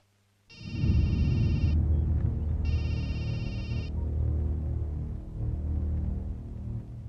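A telephone rings in two clear bursts as the same number is redialed, the tones loud and near over a steady low rumble of background sound.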